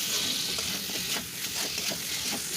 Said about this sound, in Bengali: এই মশলার সঙ্গেই ভেজে নেব।